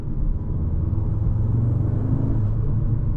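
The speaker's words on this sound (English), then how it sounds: "listen to the turbo spool up" A 2024 Audi S3 engine rumbles steadily up close with a rising whooshing whine of its turbo spooling as it builds revs.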